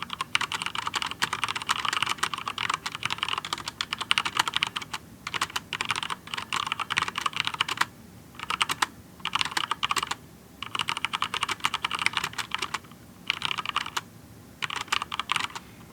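Steady clacking of a cheap mechanical keyboard with unlubed MX Red switches being typed on up close, with brief pauses between bursts of keystrokes.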